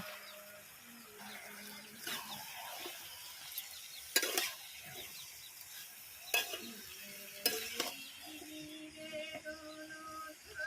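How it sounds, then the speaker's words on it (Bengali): Chicken liver and potatoes being stirred in a frying pan: quiet sizzling with intermittent scrapes and sharp clanks of a spoon against the pan, several distinct knocks spaced a couple of seconds apart. "খুলে একবার একটু নেড়ে নেব"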